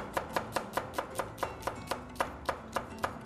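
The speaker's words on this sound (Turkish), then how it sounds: "Minik minik soğanlarımızı doğrayalım." A knife chops small onions on a cutting board in a quick, steady rhythm, about fifteen crisp close taps evenly spaced, with no talk over them.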